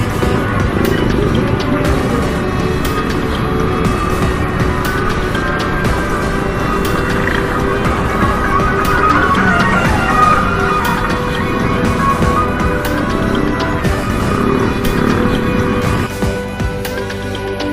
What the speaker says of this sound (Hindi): बाइकों की आवाज़ सुनो पहले, ये सुनो कैसी लगी आपको बताना जरूर।